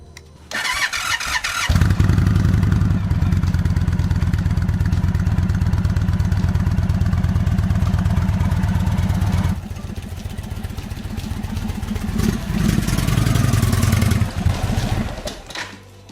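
An Indian Super Chief motorcycle recovered from flood damage starts with a quick crank and then runs loudly at close range with a steady thumping idle, easing slightly partway through as the bike is moved.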